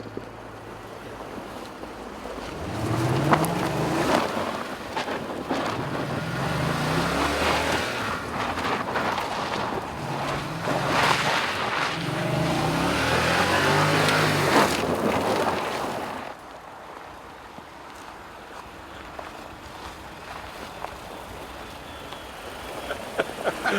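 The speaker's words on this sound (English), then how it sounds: "You want to try an all-wheel drive burnout?" A 2014 Lexus LS460 with all-wheel drive and traction control off does a burnout. Engine roar and tire noise build and swell loudly for about twelve seconds, then drop away to a quieter background rumble.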